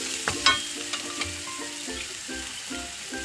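Prawns frying in a pan for a Kerala-style prawn roast, giving a steady close sizzle broken by a few sharp pops and the clatter of stirring.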